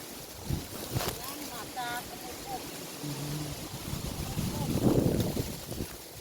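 Strong wind gusts blowing across an outdoor garden plot where beans and jicama grow, a steady rushing roar that swells louder toward the end, with brief voices faintly audible.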